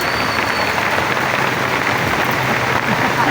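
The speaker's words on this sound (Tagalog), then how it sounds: "Yan o, lakas ng ulan." Heavy rain drums steadily on a roof, a dense, loud, unbroken wash of impacts that continues evenly with no pauses throughout.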